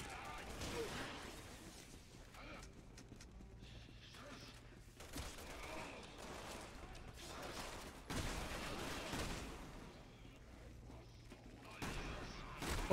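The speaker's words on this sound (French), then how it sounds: "J'utilise beaucoup de balles sur ces monstres à la con." Bursts of gunfire aimed at monsters in Resident Evil 6 fill the scene, with repeated shots and fusillades over a busy game mix while someone talks over them.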